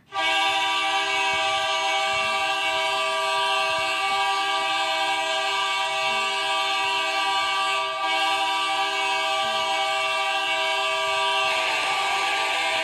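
The Edmonton Oilers' NHL arena goal horn blares as a single long, loud, sustained horn blast lasting many seconds, with a steady tone and a faint crowd roar beneath it and no talking.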